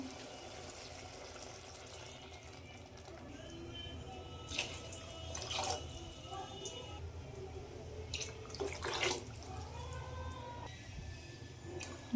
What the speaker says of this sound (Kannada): ಇದಕ್ಕೆ ನೀರು ಹಾಕ್ತೀನಿ ನಾನು.